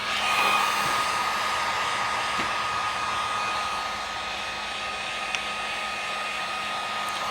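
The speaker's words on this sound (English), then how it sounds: "when using the heat gun, you don't want to dwell on any spot too long" A heat gun blows hot air steadily to dry fresh winter camo paint on a rifle in cold weather, a continuous close whooshing roar with a slight dip in level partway through.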